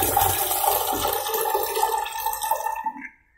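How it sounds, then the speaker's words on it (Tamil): Water splashes and pours steadily for a few seconds as soaked pulses are rinsed, then trickles away to quiet as it drains. "இது நல்லா அந்த தண்ணியை வந்து அலசி கீழே ஊற்றிடணும்."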